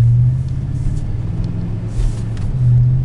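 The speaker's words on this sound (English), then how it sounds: "As you see, the transmission shifts correctly, the vehicle drives straight" A 2000 Chevrolet Silverado LS extended-cab pickup drives along with a steady low engine rumble from inside the cab, the pitch stepping slightly as the transmission shifts, with no talk.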